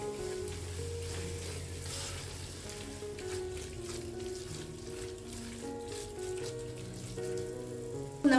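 Macaroni, fried chicken and tomato ketchup being stirred together in a pan, giving a continuous soft sizzle with light scraping and wet rustling at an even level throughout.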